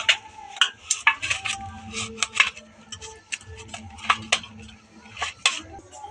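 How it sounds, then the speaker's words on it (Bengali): Cucumber, green chilies and onions being chopped with a knife, heard as close, irregular crisp taps and clicks in quick bursts with short pauses in between. "সেই ফাঁকে আমি শসা, কাঁচা লঙ্কা, পেঁয়াজগুলো একটু কুচিয়ে নেব"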